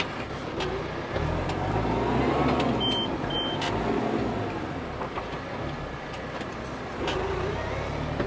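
A 2009 New Holland T4050F orchard and vineyard tractor, a 95 HP turbo diesel with a cab, reverses in a steady, close engine drone that holds at a constant level throughout.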